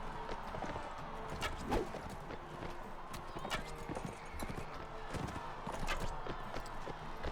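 Galloping horse hooves in the medieval combat game Mount & Blade: Warband, a steady clip-clop of several mounts during a tournament melee, with occasional whinnies under continuous battle noise and talk.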